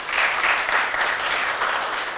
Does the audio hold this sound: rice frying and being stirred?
no